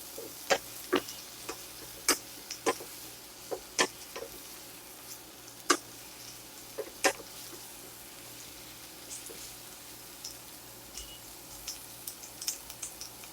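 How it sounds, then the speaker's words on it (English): Zucchini, yellow peppers and shrimp being stirred in a frying pan over medium-high heat, giving a quiet, steady sizzle broken by sharp, irregular clicks and taps of the utensil against the pan. "Just keep stirring it up, mixing it up"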